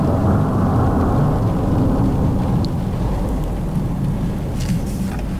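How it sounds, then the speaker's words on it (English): A heavy Arizona monsoon storm at a southeastern Arizona campsite, with a loud, continuous low rumble of thunder and rain that rolls on throughout and eases slightly toward the end, with no voices. "Should hear thunder anytime now."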